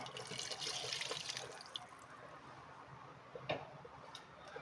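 Water pours into a mixer grinder jar while mutton curry is prepared, a steady close trickle and splash with a brief drip or knock near the end.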